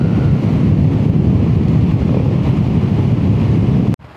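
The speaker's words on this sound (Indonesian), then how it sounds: "Nah ini kondisinya di pantai." Strong wind and crashing surf at Pangandaran beach roar steadily and loudly, with heavy wind buffeting the microphone, then cut off abruptly near the end.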